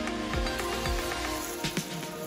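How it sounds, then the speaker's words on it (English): Steady rain patters down over a forest drive on a wet morning, a dense, even hiss with a few soft drips and thuds standing out near the microphone. "It is still raining. I think it's going to rain all day."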